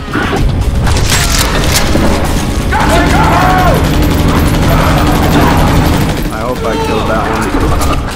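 Gunfire and explosions in the video game Battle: Los Angeles make a dense, loud barrage of rapid shots and heavy booms, nearly continuous, with voices heard through the combat noise.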